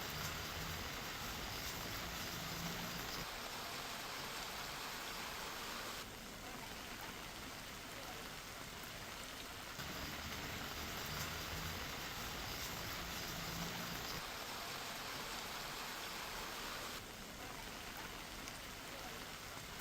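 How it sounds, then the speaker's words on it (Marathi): Heavy overnight rain pours down in Vasai Virar with roads underwater, a dense, steady hiss of falling water that stays loud and unbroken throughout. "काल रात्रभर अति मुसळधार पाऊस जो काही मुंबई आणि आसपास सुरू आहे"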